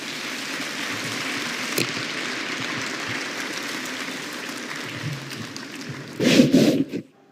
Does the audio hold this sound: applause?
yes